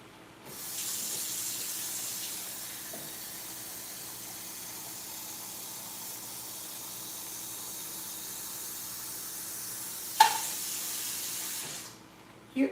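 A kitchen tap runs steadily for about ten seconds, filling a pot with water for cooking rice, a close hissing stream that ends with a short clunk and a second brief splash.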